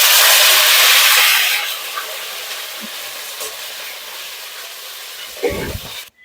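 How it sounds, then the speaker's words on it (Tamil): Onions and curry leaves hit hot oil for a sardine curry with a loud burst of sizzling. The sizzle fades within two seconds to a soft, steady hiss, and a short clunk sounds near the end. "இந்த வெங்காயமும் கருவேப்பிலையும் இதில் ஆட் பண்ணுறேன்"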